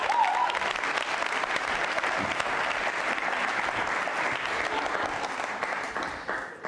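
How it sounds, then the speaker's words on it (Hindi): An audience at a Jain Social Group quiz show claps loudly and continuously, a dense, steady wash of applause close by that holds for several seconds before easing slightly at the end. "अरविंद हीरावत साहब के लिए तालियां जोरों से बजाइए आप"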